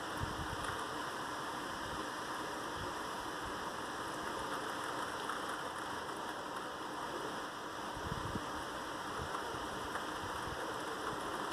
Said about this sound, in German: der Starkregen ist da, meine Damen und Herren, er setzt ein